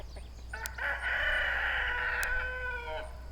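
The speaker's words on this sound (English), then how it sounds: "Chickens are awake." A rooster crows once in a long, drawn-out call with chickens nearby at 6:30 in the morning on an Arkansas homestead. The crow rises clearly and holds steady over a low background hum.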